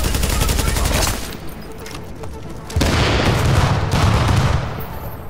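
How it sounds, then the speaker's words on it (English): An explosion goes off in the video game Don't Starve Together, a loud rolling burst with rapid crackling volleys that dips briefly and then surges again before fading, with a voice faintly present. "Okay, I just exploded."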